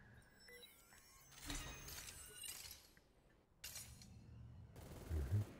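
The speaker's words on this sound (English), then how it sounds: "there's some shooting here on the north side of the school" Bursts of gunfire in the Super Mecha Champions video game, several rapid volleys with glassy breaking crackle, separated by quieter gaps, moderately loud.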